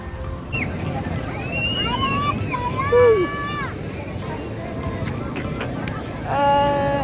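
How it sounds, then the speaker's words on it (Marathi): Crowd of people milling about at Nagav Beach in Alibag, a steady hubbub of distant voices and background babble with a few whistle-like calls rising above the general noise. "बऱ्याच पब्लिक आलेले तुम्ही पाहू शकता गर्दी झाली"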